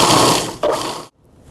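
Food processor blades whirring loudly through a dry dessert mixture in two close, steady pulses, the second starting just after a brief dip, then cutting off abruptly to near silence.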